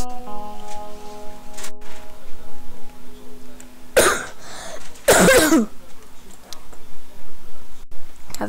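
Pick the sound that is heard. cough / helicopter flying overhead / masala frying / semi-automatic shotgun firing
cough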